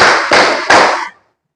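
Group clapping in the Indonesian 'tepuk semangat' spirit clap at a school economics lesson, with three loud, sharp bursts of many hands striking together at an even pace, each one dense and crackling before the sound cuts off to silence.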